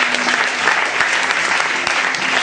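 A church congregation claps together in sustained, dense applause to acclaim the Lord during a French-language worship service, steady and loud throughout with no voices standing out.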